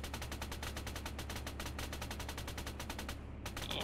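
Rapid automatic gunfire in a video game, sustained bursts of evenly spaced shots rattling loudly and continuously before cutting off near the end.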